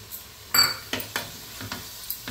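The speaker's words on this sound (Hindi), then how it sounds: "अब इसको भी तेल अलग होते तक इसको भी अच्छे से भूनना है" Spices for fish curry, with dried fenugreek leaves, roast in hot oil under a soft sizzle, broken by a few sharp scraping stirs of a spoon against the pan, close and without speech.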